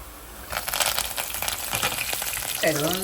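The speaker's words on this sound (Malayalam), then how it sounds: "നമ്മുടെ സാധനം ഉള്ളിയും പച്ചമുളകും എല്ലാം നന്നായിട്ട് മൂത്തതിന് ശേഷമേ നമ്മൾ കരിയാപ്പില ഇടാവുള്ളൂ" Onions and green chillies frying in a pan, a soft crackling sizzle with stirring scrapes, joined near the end by a brief voice.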